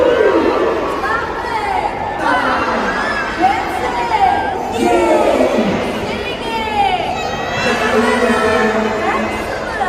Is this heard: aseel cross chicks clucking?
no